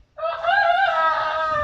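One chicken in a newly built coop gives a single drawn-out, nasal call lasting just over a second, close and fairly loud, after a brief silence.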